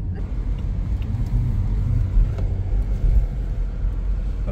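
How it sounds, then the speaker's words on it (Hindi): A car rumbles low and steady as it is driven slowly into a parking area at a shopping destination, with a faint murmur of voices and traffic in the background. "चलिए पहले कार पार्क कर देंगे"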